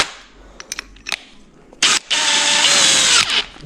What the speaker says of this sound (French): Deuxième perçage, ça c'est pour mettre l'insert.